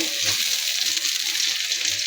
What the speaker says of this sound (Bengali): টমেটো ভেজে নেব।